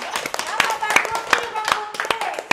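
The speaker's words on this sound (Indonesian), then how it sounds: "Tepuk tangannya dong" A small group claps in irregular sharp bursts, a few distinct nearby handclaps scattered unevenly rather than a full ovation, with a voice heard over them.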